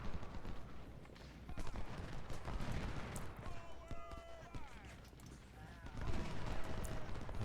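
Musket volleys in the Civil War strategy game Ultimate General: Civil War, crackling and rolling at a distance under a dense, busy battlefield mix with faint whistling tones.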